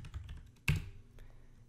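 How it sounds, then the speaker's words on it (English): Computer keyboard keys are pressed, a few soft taps around one sharper clack, close and quiet, with no talk. "And then I would hit P on my keyboard for position"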